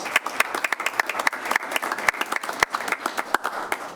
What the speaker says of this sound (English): Brian, round of applause